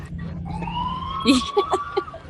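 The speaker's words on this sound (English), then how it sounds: "it just sounds to me like a cop siren" A distant police siren tone holds steady in the background in Valdez, Alaska, while people talk nearby over it.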